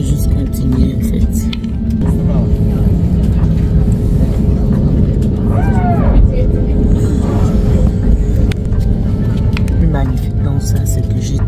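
Inside an airliner cabin during takeoff, a loud, continuous engine roar fills the space while people talk quietly nearby.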